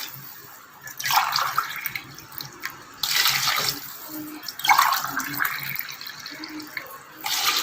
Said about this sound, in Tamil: நம்ம இப்போ வந்து தண்ணி அளந்து இதில் ஊற்றிடணும்.